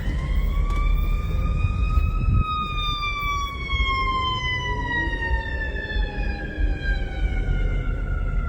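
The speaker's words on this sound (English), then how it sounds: "That's all you hear out here, right? Sirens." A siren wails steadily in Chicago, its long rising and falling tone carrying over the rumble of nearby traffic.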